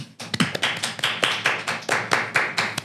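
A small group claps in a steady rhythmic run of sharp hand claps, close and fairly loud, with no talk over it, for a guest during a podcast watch-party event.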